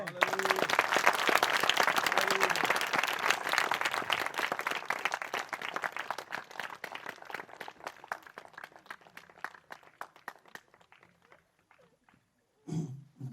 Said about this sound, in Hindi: हम सब प्रभु की महिमा की तालियां देंगे।